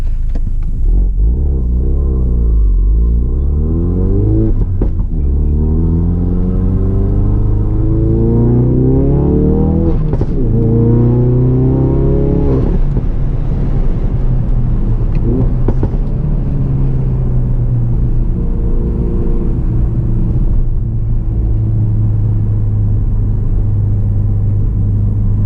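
Ford Focus RS mk3 with its exhaust valve open, engine blipped and revved several times, each rise and fall of pitch loud and close, then settling back to a deep, rumbling idle; no talking.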